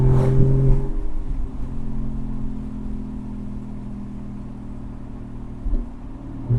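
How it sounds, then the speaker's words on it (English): A sports car engine idles with a low, steady exhaust drone through high-flow 200-cell headers, swelling briefly near the start and again toward the end; no voices. "the exhaust is basically amplifying every time I step on the exhaust"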